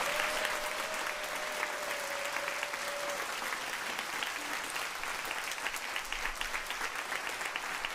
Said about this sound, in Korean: 맞춰질 때까지 계속해서 큰 박수로 함께 해주시기를 바랍니다